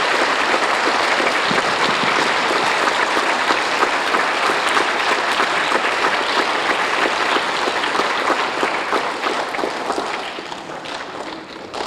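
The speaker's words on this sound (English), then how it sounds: "giving a huge round of applause to the most important people in the room today" A large crowd applauds steadily and loudly at an elementary school recognition day, dense clapping filling the space throughout before easing slightly at the end.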